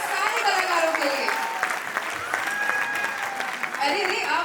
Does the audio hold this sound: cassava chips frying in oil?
no